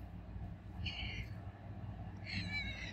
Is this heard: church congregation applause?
no